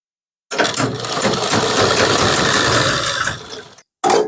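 A sewing machine runs steadily while stitching the side slit of a kurti, a loud continuous mechanical whir lasting about three seconds, then stopping briefly before starting up again.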